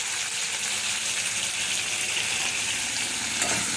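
Fennel seeds fry in hot oil for a Tamil egg curry, giving a steady, bright hiss and sizzle with no talking.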